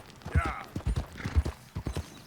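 Horse hooves clip-clop in steady, fairly quick beats in a video game, sitting low in the mix beneath continuous talking and game sound.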